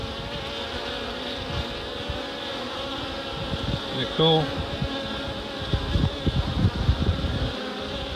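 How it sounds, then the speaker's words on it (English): Honey bees hum steadily at the landing board of a newly hived swarm's box, a continuous close buzz with a person speaking briefly over it and some handling noise. "All the bees were in the box, and they're going to work."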